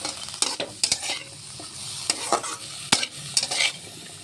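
Dried fish curry with turmeric, chilli powder and salt stirred in a pan: quick repeated spatula scrapes and clacks over a soft frying sizzle, close and fairly loud, no voices.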